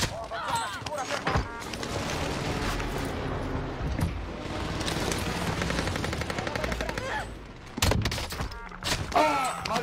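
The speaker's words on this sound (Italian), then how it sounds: "Un bombardamento di precisione a..." A precision bombardment in a video game rattles with dense, rapid gunfire-like bursts and heavy thumps, loud and nearly continuous, while an excited voice talks over it.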